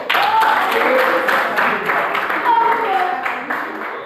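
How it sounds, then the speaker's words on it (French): Students in an osteology lecture hall applaud steadily for several seconds, a dense, continuous clatter of many hands with some voices mixed in. "Applaudissez encore."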